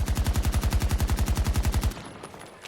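AK-12 rifle on full auto in Battlefield 2042, firing a rapid, evenly spaced burst of about twenty loud close shots that stops abruptly, leaving a short fading tail.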